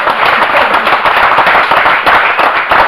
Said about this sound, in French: vous allez taper des mains pour votre voisin